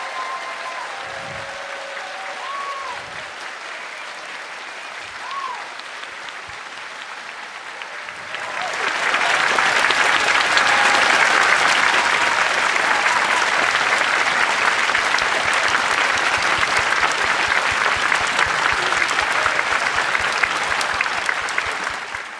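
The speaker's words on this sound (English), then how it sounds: "stand up and receive their applause" After some quiet talking and a few small sounds, an audience at the MIT Mystery Hunt 2026 closing ceremony breaks into loud, sustained applause for the winning team, dense clapping that holds steady for over ten seconds.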